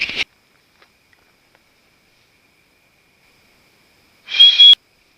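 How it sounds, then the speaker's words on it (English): Two short, high whistles from a person in the woods of Allegany State Park, New York, in summer, separated by a long silence, one at the very start and another near the end, clear and fairly close. "I do a whistle"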